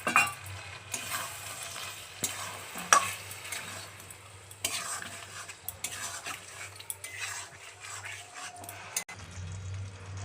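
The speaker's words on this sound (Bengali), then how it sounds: "সেই জন্য একটু কাজু বাটাটা দিয়ে দিচ্ছি" Cashew paste goes into chicken cooking in a pan for coriander chicken and is stirred in. A utensil scrapes and clinks irregularly against the pan over a soft, low sizzle, with no voices.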